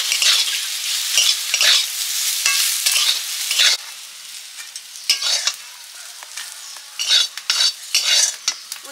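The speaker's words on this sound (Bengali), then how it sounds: "উচ্ছে ভাজা প্রায় হয়ে এসছে।" Bitter gourd (uchche) frying in a pan: a close hiss of sizzling oil broken by repeated scraping strokes of a spatula being stirred against the pan, with bursts coming in uneven rhythm and no talk.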